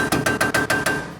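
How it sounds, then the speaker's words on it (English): Metal hammer blows strike a car axle on a Toyota AE86, six sharp ringing hits in quick, fairly even rhythm, loud and close with no talk. "Anytime we can get some hammering action, I love it."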